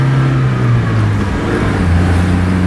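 A 1995 Nissan D21 Datsun fire truck drives in low gear, its engine droning loud and close with a steady hum, the pitch dipping slightly, with no voices.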